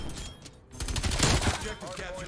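Rapid bursts of LC10 submachine gun fire in the Black Ops Cold War video game, loud and dense, with a short pause near the start before a sustained stream of shots.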